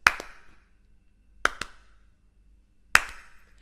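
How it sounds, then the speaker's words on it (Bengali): Hand claps in a flute lesson, three sharp close claps spaced about a second and a half apart, each a quick double clap whose two hits nearly merge into one, in a quiet room. "আমি তালি দুটো দিচ্ছি কিন্তু এতটাই দ্রুত দিচ্ছি যাতে আমার দ্বিতীয় তালিটা মনে হচ্ছে প্রথম তালির সাথেই লেগে আছে"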